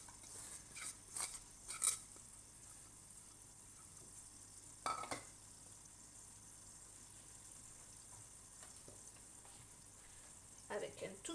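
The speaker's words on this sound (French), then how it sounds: "Je fais revenir donc l'oignon et l'ail jusqu'à ce que ça soit bien translucide." Onion and garlic sizzle in a little oil in a pot, a faint steady fry broken by a few brief stirring scrapes.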